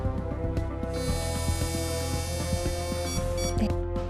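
A breathalyzer gives a steady high electronic tone as someone blows hard into it, over a busy background hum and clatter, ending with a few short beeps.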